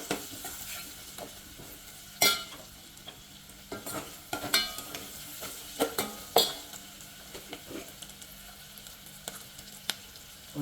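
Onions and asafoetida fry in a pan for tomato rasam, giving a soft continuous sizzle broken by sharp scrapes and clinks of a spoon stirring against the metal, with no voices.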